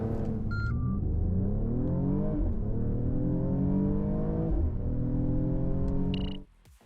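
A Mercedes-AMG GLE 53 4MATIC+ Coupe accelerating hard, its engine loud and close as it climbs through several upshifts in rising sweeps, then cutting off abruptly near the end.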